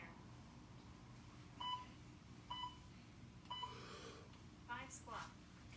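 A workout interval timer gives several short, clear beeps at regular spacing during a kettlebell clean-and-press session, faint against low room noise, with a brief breathy sound near the end.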